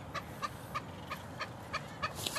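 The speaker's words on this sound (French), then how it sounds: "C'est des frégates qui font pot." Frigatebirds call at a nesting colony, a female heading back to her nest, giving a steady series of about eight evenly spaced, pulsed notes at moderate loudness over a low wind-like background.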